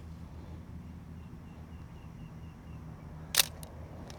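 A Nikon F3 35mm film camera from 1980 fires its shutter at 1/500 second: one crisp, close mechanical snap followed by a couple of faint ticks, set against a steady low room hum with no voices.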